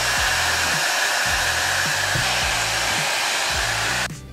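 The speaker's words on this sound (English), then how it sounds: "When I dry my hair, I will usually let it air dry mostly and then just blow dry the rest of it." A hair dryer blows steadily and loudly at close range for about four seconds. Its rushing airflow is broken by a low, rhythmic fluttering, and the sound cuts off abruptly at the end.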